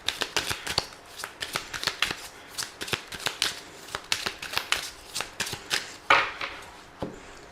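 Tarot and oracle cards shuffled by hand, a fast run of crisp riffling flutters and soft slaps repeating steadily, close and clear with no voices.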